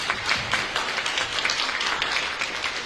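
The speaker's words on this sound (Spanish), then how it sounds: "Por favor, un aplauso." Applause for the organizers of a legal academic lecture, a full, even burst of audience clapping in a hall, close and fairly loud, continuing for a few seconds without speech.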